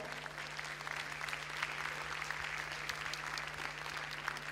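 Audience applause fills a hall as a speaker invited to talk on faith and citizenship comes on stage, steady dense clapping throughout with a constant low hum beneath.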